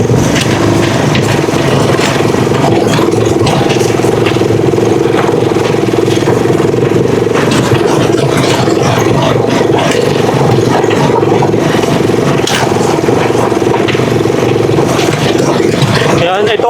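A Rusi TC150 motorcycle engine drones steadily in second gear while climbing a steep mountain road, loud and close, with someone talking over it throughout.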